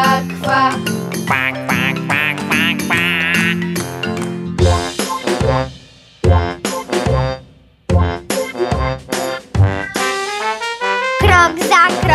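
Singers chant rhythmic duck quacks in a Polish children's song about ducks, bright repeated quack syllables over a bouncy musical backing, with brief pauses between phrases; the quacks are vocal imitations, not real ducks.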